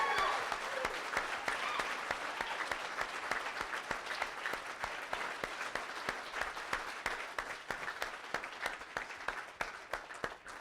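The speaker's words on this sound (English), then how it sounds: "I'd like you to give yourselves one heck of an applause." A standing conference audience applauds itself, a steady, moderately distant wash of clapping with individual sharp claps standing out, continuing evenly for about ten seconds.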